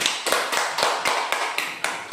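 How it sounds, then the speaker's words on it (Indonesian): A class claps for a student, a quick run of sharp, fairly close hand claps that comes in bursts with brief dips, with no voices over it. "Beri tepuk tangan untuk Syafa."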